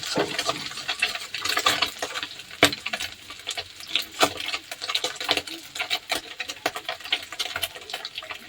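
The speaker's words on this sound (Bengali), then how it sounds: "এটাকে ভালো করে কড়া করে ভেজে নেব।" Small fish frying crisp in hot oil, with a steady dense sizzle and crackle plus irregular sharp pops and spatters running throughout, close and fairly loud with no talk.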